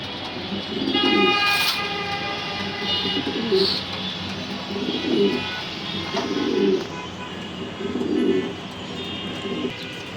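Racing pigeons coo in soft, repeated rounded bursts at a moderate distance over a continuous background hum, with a faint horn-like tone now and then.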